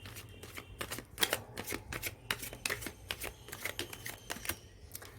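Tarot cards shuffled by hand during a card reading, a fast run of crisp riffling flicks and slaps repeating through the whole stretch, close and fairly quiet over a low steady hum, with no voice.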